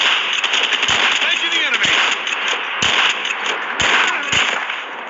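Sniper rifle fire in a Call of Duty battle royale match: several sharp, loud shots ring out at irregular intervals over a constant bed of game noise.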